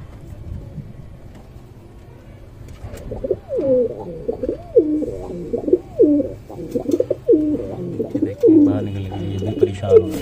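Pigeons coo repeatedly in soft, rolling phrases over a low steady hum, the calls growing louder and more frequent after the first few seconds.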